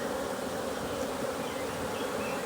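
Angry honey bees swarm at an open hive, their dense, continuous buzzing hanging close and fairly quiet, with no talk.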